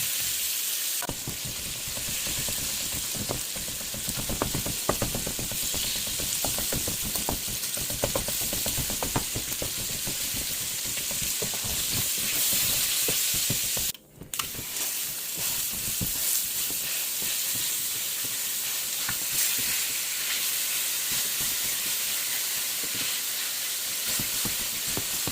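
Ground Italian sausage sizzles and crackles in a hot pan while being cooked for a bacon ragu, a steady, close frying hiss with occasional stirring clicks and one brief dip partway through.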